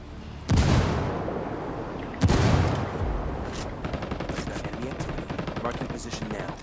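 In the shooter game Ghost War, a frag grenade goes off with a heavy blast, a second boom follows, then a dense spray of rapid gunfire crackles on without any voices.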